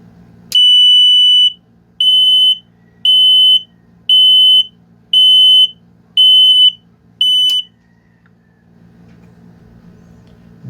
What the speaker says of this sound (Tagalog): I will now add a buzzer and see how it sounds